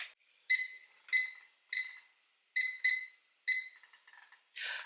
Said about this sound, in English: we're gonna set the timer for 15 minutes